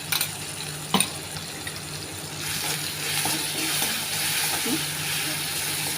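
Sabudana usal with crushed green chili being sautéed in a pan, a steady soft sizzle with occasional scraping and clinks from stirring, close and continuous.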